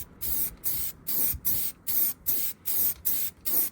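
Primer and paint sprayed onto bare sanded metal on a rare car, in eight short hissing bursts about half a second apart with brief gaps between, close and fairly loud, no talking.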